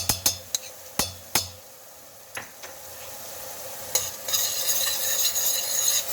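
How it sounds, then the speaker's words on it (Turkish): A few sharp clinks and scrapes of a utensil come first, then garlic cloves hit a pan of sautéed onions for a Turkish yüksük soup and a steady sizzle swells and brightens, close and alone. "İçine hemen iki diş sarımsağımızı koyuyoruz."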